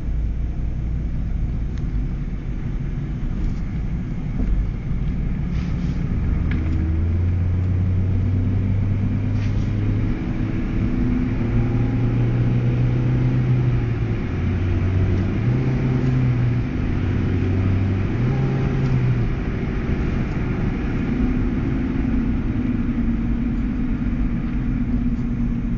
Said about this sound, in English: All 3 gears relatively quickly. It is a pretty fast car.